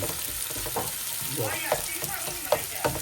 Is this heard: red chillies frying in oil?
yes